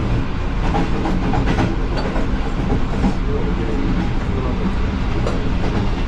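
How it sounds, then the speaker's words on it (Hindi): Pakistan Express passing a guard compartment at Mankyala railway station, a steady clattering rumble of wheels and cars that carries on the whole time, moderately loud and close, with no talk over it. "हमारा क्रॉस हुआ है पाकिस्तान एक्सप्रेस।"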